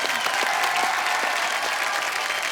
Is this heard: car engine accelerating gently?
no